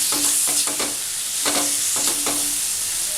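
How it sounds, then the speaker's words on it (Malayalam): Cut mango pieces stirred into chili powder frying in oil: a steady sizzle with a spoon scraping and clinking against the pan several times in an uneven rhythm, close and fairly loud. "ഇനി ഇതിലേക്ക് മുറിച്ച് വെ മാങ്ങ ഇട്ട് കൊടുക്കാം. മാങ്ങ ഇട്ടതിന് ശേഷം ഇതൊന്ന് മിക്സ് ചെയ്ത് കൊടുക്കുക."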